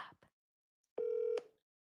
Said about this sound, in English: I hope he picks up the phone